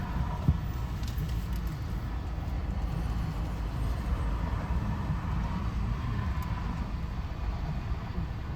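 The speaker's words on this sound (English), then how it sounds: "Recording the longest train." A long Canadian Pacific coal train passes at a distance, a faint, steady low rumble of rolling wagons that continues unbroken and without talk.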